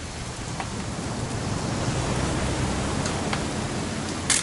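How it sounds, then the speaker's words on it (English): Steady rain from the video game What Remains of Edith Finch, a dense even hiss that holds at a constant level throughout with no voices over it. "It's gonna rain the whole weekend"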